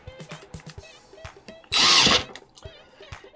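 Power driver briefly whirring screws into a KRK Rokit 5 studio monitor during an amp board repair, one loud close burst of about half a second amid light tapping and handling.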